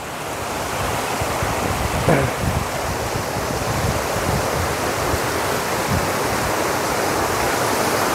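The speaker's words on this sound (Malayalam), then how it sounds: "ഇതിൻ്റെ താഴെ കൂടെ ഇങ്ങനെ ഒരു വെള്ളം ഒഴുകുന്നുണ്ട്" Water flowing in a stream below a viewpoint at Vagamon, Kerala, a steady broadband rush that holds throughout with no voices.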